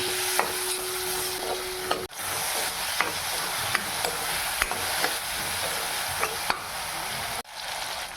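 Chopped tomatoes for fish curry fry with salt and turmeric in a pan, a loud steady sizzle running throughout, punctuated by regular sharp clicks of a stirring utensil and two brief dropouts.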